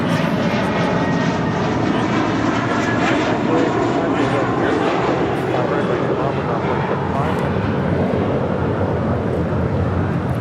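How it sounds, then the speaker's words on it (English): A JetBlue Airways Airbus A321 jet departs LAX for Fort Lauderdale, producing a loud, steady engine roar that holds for the whole stretch, with speech faintly mixed in. "That was Una Nueva Mentalidad departing to Fort Lauderdale on A321 JetBlue Airways Flight 100"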